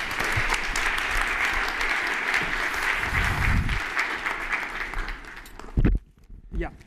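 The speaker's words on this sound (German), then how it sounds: "einen ganz herzlichen Applaus jetzt für die Begrüßung" Sustained audience applause at a welcome address opening a conference, dense and steady for about five seconds before fading, followed by a brief thump and a voice starting to speak.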